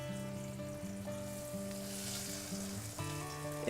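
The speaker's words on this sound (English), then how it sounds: "then we'll just take and fry our fish" Battered tilapia pieces fry steadily in hot oil, a continuous close sizzle with occasional louder crackles and no voices, holding an even level for a few seconds.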